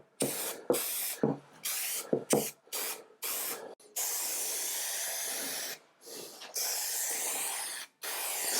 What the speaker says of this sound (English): So I'm going to be spraying this.